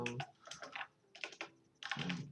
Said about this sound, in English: So I'm gonna go ahead and start typing away here